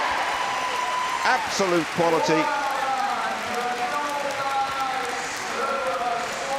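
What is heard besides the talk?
crowd applauding at Crufts agility final arena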